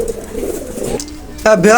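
Soft, low pigeon cooing nearby, with a voice breaking in briefly near the end.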